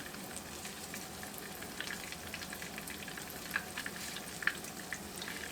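Flour-coated chicken pieces brown in hot olive oil in a skillet with a steady, close sizzle and scattered sharp pops and crackles.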